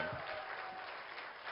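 Audience applause for Shah Rukh Khan's family at an award ceremony, a brief, dense burst of clapping from a crowd filling the hall at steady loudness.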